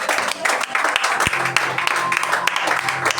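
A church congregation applauds steadily throughout, a dense wash of many hands clapping at close range, with voices faintly mixed in.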